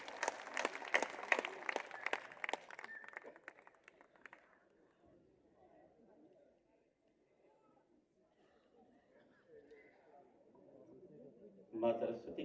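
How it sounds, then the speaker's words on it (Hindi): Audience applause at a Hindi poetry gathering, a dense burst of clapping from a crowd for the first few seconds that fades away, leaving quiet room noise with faint talk and a brief noisy rise at the end. "जोरदार तालियां बजाइए"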